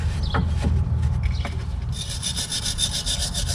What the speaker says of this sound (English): Just cleaning away any excess grease, because we really don't want that getting onto the pad itself.